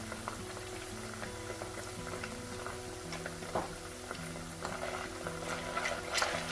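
Ginger garlic paste with turmeric frying alongside mushrooms for a spicy mushroom kurma, a soft steady sizzle with light ticking and stirring taps over a low background hum.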